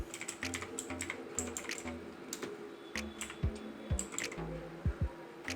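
Typing on a computer keyboard: a run of irregular, moderately soft key clicks at close range, with no voices.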